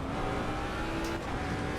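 A race car engine in Assetto Corsa Competizione accelerates hard in first gear, a loud, steady, close-up engine roar that stays constant throughout with no voices.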